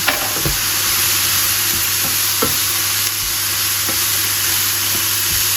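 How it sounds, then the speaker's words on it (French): Mushrooms fry in butter in a pan for chicken stroganoff, giving a steady, fairly loud sizzle with occasional clicks and scrapes from stirring. No one speaks. "on va mettre les champignons et on va laisser aussi griller légèrement"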